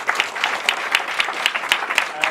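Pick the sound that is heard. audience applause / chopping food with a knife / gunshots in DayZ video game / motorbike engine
audience applause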